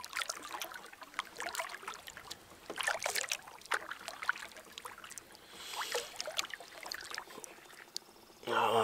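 Canoe or kayak paddled on water, with repeated splashing paddle strokes and drips in an irregular rhythm, close and fairly quiet outdoors.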